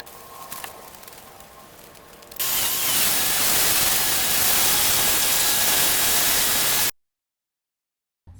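Degreaser misted from a pump sprayer over a filthy engine bay and firewall of a 1954 Chevrolet Bel Air: a steady, loud hiss of spray running for several seconds after a quieter stretch, then cutting off abruptly.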